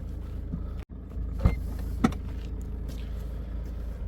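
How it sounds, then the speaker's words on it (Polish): A steady electric motor hums close by, broken by a brief cutout and a couple of soft clicks, as the powered tailgate of a Citroen C4 Picasso Exclusive moves. "Każdy Citroen C4 w eks wersji Exclusive posiada klapę elektryczną."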